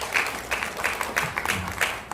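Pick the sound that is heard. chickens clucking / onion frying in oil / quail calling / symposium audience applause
symposium audience applause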